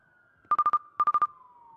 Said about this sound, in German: Mein Handy klingelt.